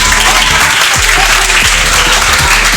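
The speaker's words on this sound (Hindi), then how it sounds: "इनके लिए जोरदार तालियां होंगी।" Loud, sustained audience applause fills a game show at an Eid musical gala, steady clapping from a crowd without a break for the full few seconds.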